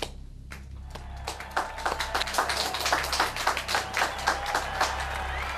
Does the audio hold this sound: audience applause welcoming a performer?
yes